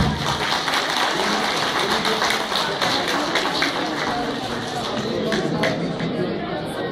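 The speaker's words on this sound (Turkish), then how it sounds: "Evet alkışlayalım." An audience at an outdoor awards ceremony for a women farmers' competition in Antalya applauds in a dense, sustained wash of clapping, with crowd chatter mixed in throughout.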